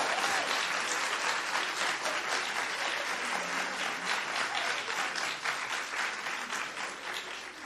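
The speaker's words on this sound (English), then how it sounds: "can I get a big round of applause for the Nepalese team?" A large audience at an award ceremony for the Food Systems Innovation Challenge 2024 claps for the runner-up Nepalese team, producing dense, steady applause that stays loud and continuous throughout.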